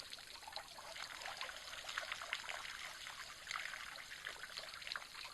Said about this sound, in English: we're listening to the sounds of elephants drinking and the water splashing, falling back into the waterhole